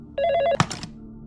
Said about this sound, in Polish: gdyby nie odezwał się telefon stacjonarny.